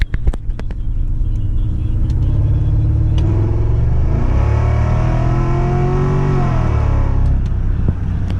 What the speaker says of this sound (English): It sounds raspy with the broken exhaust